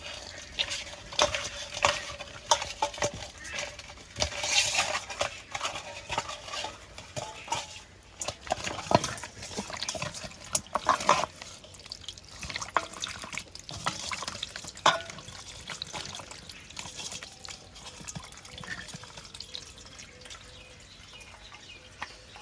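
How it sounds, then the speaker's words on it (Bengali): Fish heads being rinsed with water in a kitchen: intermittent splashing, dripping and trickling with light clinks of a bowl or utensils, close and moderately quiet. "মাছের মাথাগুলো এখন ভালো করে ধুয়ে নেব।"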